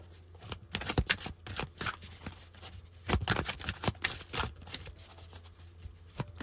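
Large tarot cards are riffled and shuffled in quick repeated bursts, crisp flutters and snaps close up, with brief pauses between shuffles.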